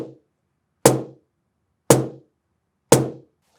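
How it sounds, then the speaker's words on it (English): Three crisp snare slaps are struck with the fingers at the top edge of a cajon's face, spaced roughly a second apart. Each is a close, bright, sharp hit that dies away fast between clean silences. "The snare hit, conversely,"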